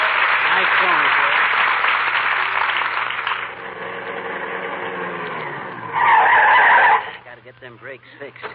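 A car skids to a halt as a radio comedy sound effect: a long, loud tire screech that fades and then briefly flares again near the end, followed by someone speaking.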